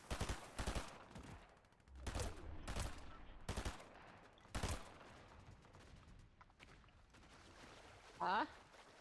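Gunfire in the video game Fortnite: loud, sharp shots in a quick irregular volley, then a few more spaced bursts, with players talking between them.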